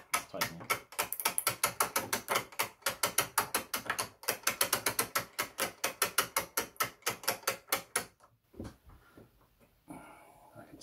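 An alarm clock mainspring is wound tight, its ratchet and pawl giving a long run of close, sharp clicks in quick uneven bursts that stop near the end, leaving a faint rustle.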